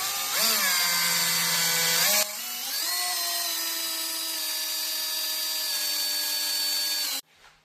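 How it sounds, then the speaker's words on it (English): A power drill whines loudly and steadily while drilling a 1/8-inch hole for a marine beach ladder, briefly dipping in pitch near the start, then runs continuously before cutting off abruptly. "Make sure you drill a nice clean hole in the center of that groove."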